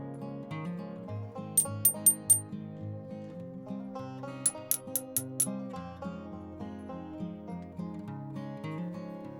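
Two quick bursts of light taps on a leaky DY86 TV vacuum tube that has lost its vacuum, four strikes each, sounding short, dull and clicky over a continuous low hum.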